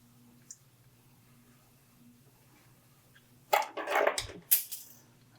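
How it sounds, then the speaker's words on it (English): A pair of scissors clatters onto a workbench during fishing rod wrapping, with a burst of sharp clicking and metallic rattles after a quiet stretch. "There go my scissors."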